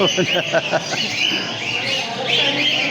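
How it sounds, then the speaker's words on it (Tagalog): Cockatiels, finches, budgerigars and lovebirds chirp and call at a bird show in a mall, a busy mix of small bird calls over a background of crowd chatter and speech. "Iba-iba po meron ditong mga kakatail, pinches, Budgerigar or modern Budgerigar din, of course mga lovebirds."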